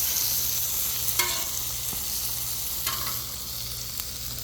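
Mini garlic bread pizzas with pepperoni sizzle steadily on a Blackstone griddle, a low frying hiss throughout, with a couple of sharp spatula scrapes and clicks as they are flipped.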